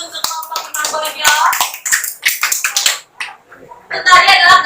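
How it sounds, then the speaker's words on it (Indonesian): A classroom of students claps for a student group in a university civics teacher-training session: close, uneven bursts of hand claps, a brief lull, then a fuller round, with some voices mixed in. "berikan tepuk tangan dulu untuk kelompok Imam Bojo"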